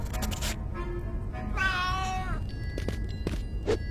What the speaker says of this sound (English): Frederick, look, it's a cat.